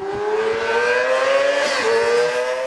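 A racing motorcycle laps the Laguna Seca track on a sunny day, its high engine whine rising and holding steady as it passes at moderate distance for a few seconds.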